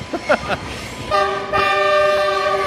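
A train's horn blares loud and sustained in two long blasts, close by, after a few brief rumbles and knocks of the approaching train, in San José, Costa Rica.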